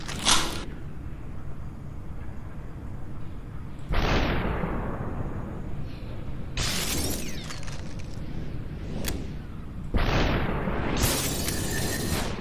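Gunfire in the video game SuperHot: a few loud, sharp shattering bursts spaced several seconds apart, each with a quick decaying tail, over a low ambient hum.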